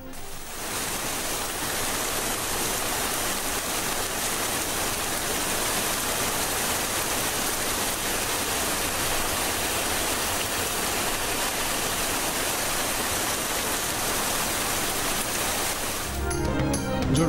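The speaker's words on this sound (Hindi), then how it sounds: "जुड़वां शहरों रावलपिंडी, इस्लामाबाद में मूसलाधार बारिश।" Torrential rain pours in Rawalpindi and Islamabad, a dense, loud, unbroken hiss of heavy rainfall that continues steadily throughout and cuts off abruptly at the end.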